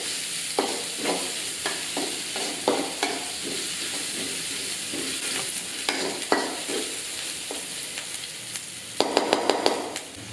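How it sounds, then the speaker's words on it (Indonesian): Onions sautéing in a pan while preparing chicken and shrimp dim sum: a steady frying sizzle broken by repeated scraping stirs, with a louder burst of rapid utensil clatter near the end. "Pertama, kita tumis dulu bawangnya sampai harum dan kecoklatan dikit."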